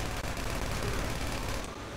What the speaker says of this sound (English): They're taking shots at my vehicle.